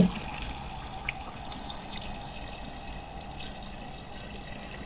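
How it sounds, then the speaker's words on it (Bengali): Water runs steadily into a metal pressure cooker holding lentils, a soft continuous trickle and splash with a faint clink near the start. "দিয়ে দিচ্ছি পানি"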